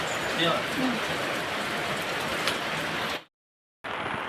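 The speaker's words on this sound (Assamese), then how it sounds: "বৰষুণ দি আছে" Steady rain patters continuously for a few seconds, then cuts to silence before briefly resuming.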